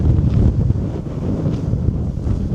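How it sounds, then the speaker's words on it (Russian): Strong, cold wind roars steadily across the microphone at the ancient ruins of Ephesus, a dense low rumble with gusty swells throughout and no voices. "Очень ветреное место здесь."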